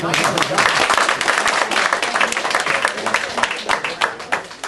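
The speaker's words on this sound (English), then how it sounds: "Give her a round of applause." Sustained applause from an audience, dense clapping that swells and then gradually thins out toward the end.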